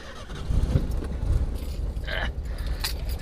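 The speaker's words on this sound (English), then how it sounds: "Sets of keys here." Several sets of keys jangling close by in a workshop setting, a bright metallic rattle in short clusters over a low rumbling background.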